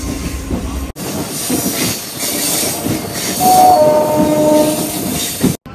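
A Howrah–Digha local passenger train rumbles steadily along the tracks, with wheels clattering and a faint squeal, heard from on board without any talking.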